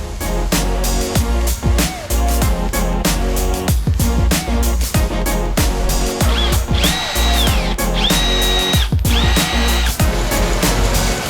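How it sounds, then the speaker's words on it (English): A power drill bores holes around the edges of metal parts for a C8 Corvette drift car, whining loud and close in a busy, continuous stretch of repeated drilling, its pitch rising and falling with the load. "drill both of these around the edges"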